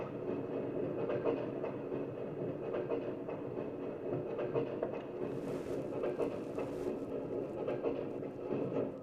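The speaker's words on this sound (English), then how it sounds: "Stop the train!" A film train runs along its rails with a steady, low rumbling roll and faint clickety-clack, continuous and fairly quiet throughout.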